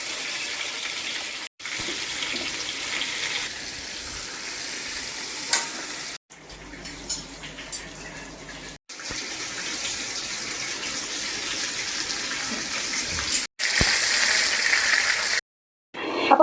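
Whole stuffed chicken frying in a pan, turned side to side, gives a steady broad sizzle with a few short breaks and small pops throughout, moderately loud and close.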